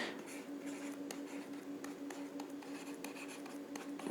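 Pen writing on paper, a quiet close run of light scratchy strokes and taps at an uneven rhythm over a low steady hum.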